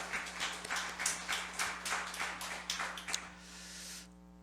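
A church congregation at a Sunday worship service claps in a burst of applause, fairly soft and diffuse, building briefly then fading out over a steady low hum.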